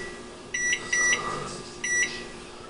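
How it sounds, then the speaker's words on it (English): A kitchen microwave oven timer beeps in short electronic tones, a few quick beeps followed by another pair, moderately loud against a quiet room. "Now find a timer. I use my microwave."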